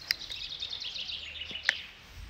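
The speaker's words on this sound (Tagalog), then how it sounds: "At tahimik lang, mga ibon lang ang maiingay sa pakinggan nyo." Birds chirp and sing outdoors in quiet Norwegian countryside, scattered high calls at moderate distance over faint background hush.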